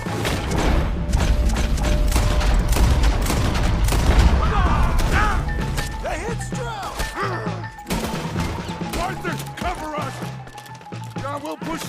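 Gunfire in the Red Dead Redemption 2 video game: a loud, dense stretch of shots and booms with mechanical clatter and a music bed, while characters shout over the fighting.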